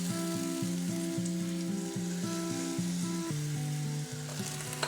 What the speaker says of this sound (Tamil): இதில் தக்காளி வந்து நல்லா வதங்கி வரணும்